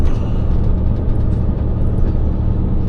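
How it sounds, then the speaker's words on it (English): A heavy truck descending a hill on the A9 southbound from Thurso with its engine retarder fully applied, giving a loud, continuous low rumble and drone close up, without speech. "we're not touching the brakes, just full retarder. Let the truck take us down."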